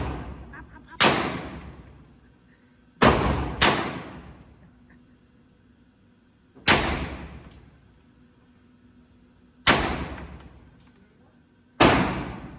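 Glock 25 .380 pistol fired in spaced single shots, six sharp loud reports with ringing decay over about twelve seconds, no one speaking between them.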